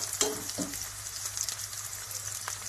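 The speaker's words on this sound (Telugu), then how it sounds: "ఉల్లిపాయలు బ్రౌన్ కలర్ వచ్చేంత వరకు ఆగని." Onions frying in a pan until they turn brown, a continuous close sizzle with a couple of brief scraping stirs near the start, and no talking.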